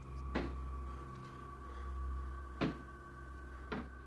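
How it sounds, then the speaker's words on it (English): Sharp knocks sound in a small apartment reported to be haunted: three isolated thuds spread over a few seconds against a quiet background hum. "He breathlessly records incessant knocking sounds,"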